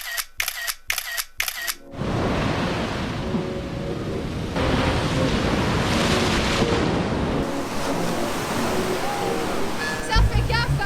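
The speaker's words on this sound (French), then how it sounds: "On s'est pas pris trop de giclées par les vagues." Ocean surf rolls and crashes steadily on Diamond Beach in Bali, a dense, loud wash of breaking waves with wind buffeting the microphone, preceded by a few quick camera shutter clicks at the start.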